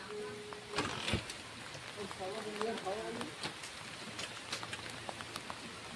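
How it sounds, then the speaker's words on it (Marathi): Rain falls outdoors beside a vehicle being started for work, a soft steady patter with scattered drop taps, faint and continuous, with quiet voices and a low engine rumble in the background. "पाऊस पडायला लागला."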